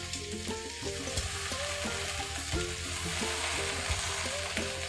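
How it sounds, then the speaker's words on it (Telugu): Gongura leaves and green chilies fry in a pan with a dense, continuous sizzle, layered with a faint rhythmic background pattern and steady crackling from start to finish. "గోంగూర అయితే వేస్తున్నాను."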